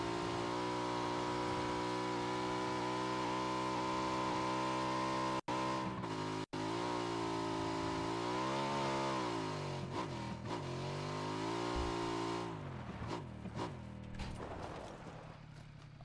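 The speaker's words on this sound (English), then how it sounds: "If there's anyone up this hill and they just hear me driving" A car engine drones steadily while driving in the battle-royale video game PUBG, with continuous revving that rises and falls over uneven terrain. It is loud and constant, with a couple of abrupt dropouts and rougher bumping toward the end.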